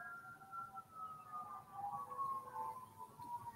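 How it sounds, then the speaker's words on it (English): Sirens wail outside during rush hour traffic, faint and distant, their pitch slowly rising and falling throughout with no talk. "there's so many sirens going off right now"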